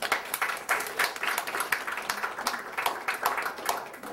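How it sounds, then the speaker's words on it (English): Audience applause at a Sunday morning sermon gathering, a steady wash of many hands clapping with fairly dense, slightly uneven rhythm throughout, moderately loud and close, with no talk over it. "please give him a warm round of applause"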